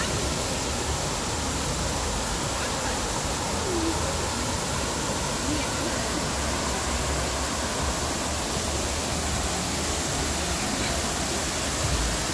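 Fountain water splashing at night in Kyiv, a steady loud broadband rush of falling water that continues unbroken throughout.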